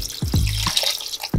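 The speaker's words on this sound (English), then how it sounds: "Now I'll add in 1 cup of water" Water poured into a pan of simmering Kerala fish curry splashes and gurgles in short close bursts, with a few distinct pours and drips against a quiet kitchen background.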